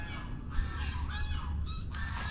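Ducks on a small farm near a fish pond, a flock honking and quacking continuously at close range with overlapping calls and no talk.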